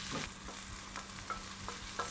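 Potatoes and garlic are stirred in a pan with bacon, frying with a soft hiss and a few distinct scraping clinks of the utensil, close and without talk.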